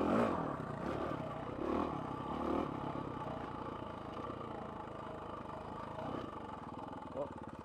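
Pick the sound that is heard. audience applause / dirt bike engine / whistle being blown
dirt bike engine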